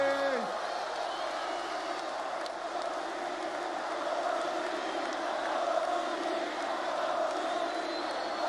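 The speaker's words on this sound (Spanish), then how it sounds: "Un fuerte aplauso para este guerrero." A crowd at an international freestyle rap battle final cheers and claps in one steady, loud roar that holds throughout, with a voice on a microphone briefly heard at the start.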